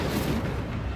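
Fiery Incendio spell blast in the Hogwarts Legacy video game, a dense rumbling whoosh of burning fire filling the whole moment, loud and continuous with no pause.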